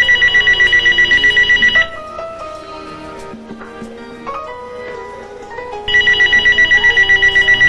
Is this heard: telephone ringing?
yes